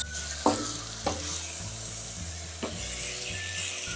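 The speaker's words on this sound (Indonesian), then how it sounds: "Sekarang kita masukkan ayamnya. Kita aduk dulu." Chicken pieces are stirred into a cooked spice paste in a pan, with a continuous sizzle and three or four distinct scraping strokes of the spatula, close and clear with no talk.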